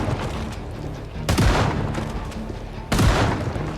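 Two loud gunshots ring out in the zombie survival game Project Zomboid, in a Louisville setting. Each sharp crack lands about a second and a half after the last and trails into a short decay over a low background hum.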